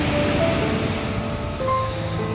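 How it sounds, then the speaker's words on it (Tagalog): Rough, choppy sea with waves surging steadily near a fishing shore, a continuous broad wash of surf and wind noise that stays loud and unbroken for the whole stretch. "Magalaw yung dagat."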